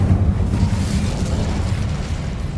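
Incendio fire spell in Hogwarts Legacy, cast inside a tomb: a deep, rumbling burst of flame that swells at once and roars on steadily with a low boom.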